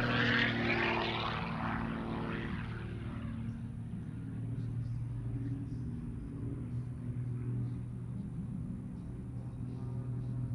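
A 1956 de Havilland Super Chipmunk propeller plane drones past at an airshow, its engine loudest at first, then settling into a steady, distant rumbling hum with no voices.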